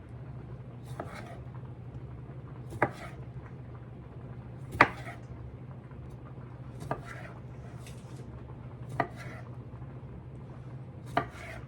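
Knife slicing small vegetables in half on a cutting board, about eight sharp isolated knocks spaced a second or two apart over a low steady background hum, close and with no talking.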